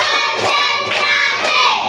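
Children in a classroom clap hands in a rhythmic focus routine, a crowded burst of claps and hand thumps close by, continuous for a couple of seconds.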